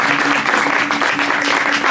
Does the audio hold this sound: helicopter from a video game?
no